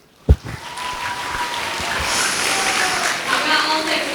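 At a school Christmas talent show, a sharp knock gives way to an audience's applause swelling and holding steady to welcome a singer, with some voices mixed in.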